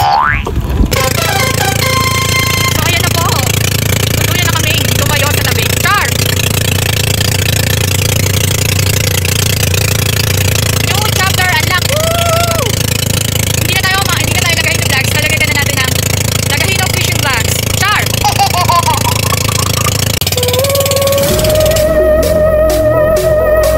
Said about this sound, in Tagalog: Ayan po ay i-open na ang makina para diretso na tayong makapalaot.